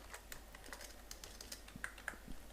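Quick, uneven keystrokes clatter on a computer keyboard as code is typed, faint and close, a run of separate taps with a couple of sharper key hits near the end.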